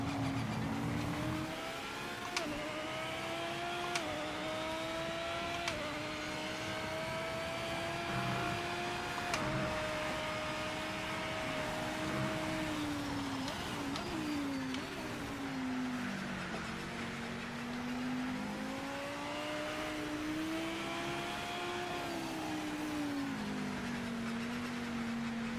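Race car in a racing video game driving in the wet with spray and fog: a steady engine drone rising and falling through gear changes and revs, with occasional tire squeal, continuous and close, no voices.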